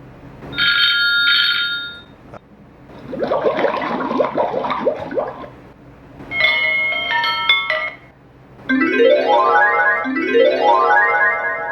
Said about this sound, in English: let's listen to the ringtones